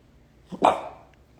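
A single short dog bark sounds nearby, sharp and alone against a quiet background.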